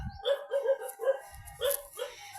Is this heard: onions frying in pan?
no